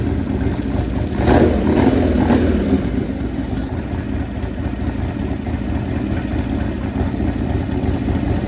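A 1996 Buell S1 Lightning motorcycle with a junk battery idles close by, a steady low engine rumble with a brief rev bump early on, without any talk.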